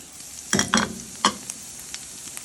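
Carrots fry in a pan alongside sautéed onion pushed to one side for a vegetable stew. A soft, constant sizzle sits under a few loud scraping stirs bunched near the start, then one more stir and faint clinks.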